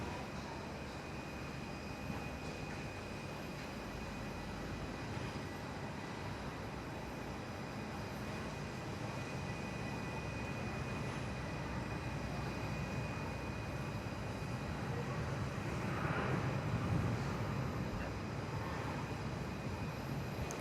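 An aircraft on its takeoff roll at Perth Airport gives a steady, broad engine roar heard from a distance, holding level throughout and swelling slightly toward the end.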